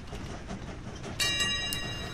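Trains running on tracks in the PC strategy game Train Valley, a steady low rolling rumble with a bright bell-like chime ringing out partway through, moderately loud with no talk.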